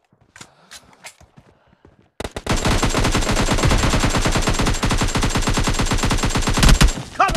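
Rapid, sustained machine gun fire in the video game PUBG Lite, loud and close, a continuous burst of shots running for several seconds after a brief stretch of quieter sounds.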